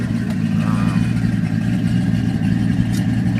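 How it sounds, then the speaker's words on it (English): A twin-turbo Pontiac GTO with an LS3 V8 on an APS kit at 11 pounds of boost, exhaust cutouts open, rumbles at a steady, loud idle close by with a deep, continuous drone. "And that's the exhaust right there with the cutouts open."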